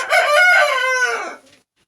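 A single rooster crows once, loud and close, a drawn-out cock-a-doodle-doo lasting over a second that fades into silence.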